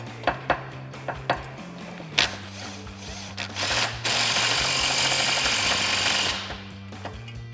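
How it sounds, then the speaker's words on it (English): An Allen head driver tightening an MBRP exhaust tip on a 2021-2022 Ford Bronco, a series of sharp metallic clicks and taps followed by a sustained buzzing whir of the tool for a few seconds. "I'm going to use my Allen head."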